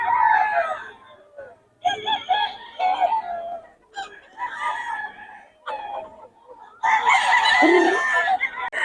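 A farm rooster crows repeatedly and clucks between calls, loud and close, with a final strong crow near the end and no talking.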